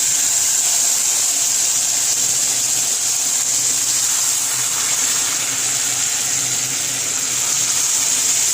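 Water pours steadily into a pot of masoor dal cooking with melted tomato. A continuous, even gushing hiss lasts throughout at close range and fairly loud, with no talking.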